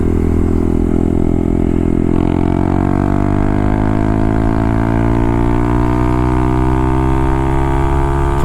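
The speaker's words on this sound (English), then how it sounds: "I'm out riding the bike now. We're out on a country road, and we're just gonna hold this thing wide open" Honda Grom motorcycle held wide open on a country road, a loud steady engine drone whose pitch climbs gradually through the gear.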